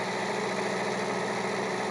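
A tractor engine idles steadily in Farming Simulator 25, a continuous mid-low rumble with faint vibration, alone and without talk.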